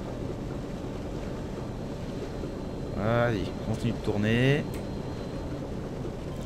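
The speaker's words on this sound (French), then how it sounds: "Le moteur derrière est toujours à fond pour me ralentir." In the Ships Simulator Extremes video game, an inland barge's rear engine runs at full power as a steady, loud, low rumble with a wash of water and wind noise, and someone speaks briefly over it midway.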